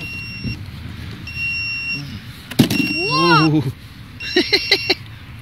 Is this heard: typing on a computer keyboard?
no